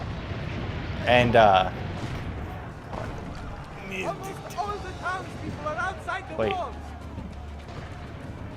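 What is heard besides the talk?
cannon fire in video game Assassin's Creed Brotherhood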